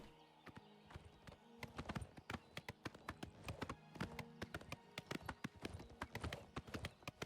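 Horse hooves clip-clop in a quick, uneven rhythm while riding across open country in the video game Oblivion Remastered, crisp and close, with faint background game ambience.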